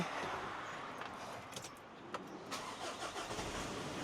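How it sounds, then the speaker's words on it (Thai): A car engine cranks into life and settles into a soft, even running hum, heard fairly faint. "มาฟังเสียงเครื่องเลยนะครับ"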